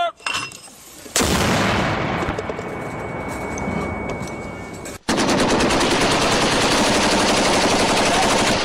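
Sustained automatic gunfire from weapons during combat in Afghanistan, loud and close, with dense rapid bursts that break off briefly and resume in an unbroken stream of shots.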